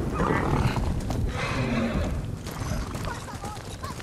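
Horse in the video game Ghost of Tsushima whinnies amid rumbling hoofbeats and clip-clop, a continuous busy layer of game sound with a voice talking over it.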